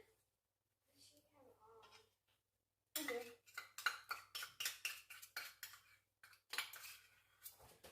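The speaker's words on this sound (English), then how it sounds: "we're going to go ahead and use a spoon to mix this all up" A spoon stirs pumpkin oatmeal bake batter with honey in a bowl, giving a quick run of loud, scraping clinks against the dish after a quieter stretch of kitchen sounds.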